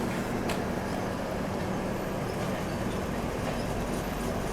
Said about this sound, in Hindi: हुजूर साहिब नांदेड़ श्री गंगानगर एक्सप्रेस ये अपने जस्ट बगल में चल रही है।